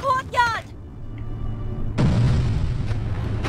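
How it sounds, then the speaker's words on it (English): A deep, rumbling explosion erupts in The Mummy: Tomb of the Dragon Emperor video game, sustaining a heavy low roar after a short exclamation from a player. "Michael Bay explosion time"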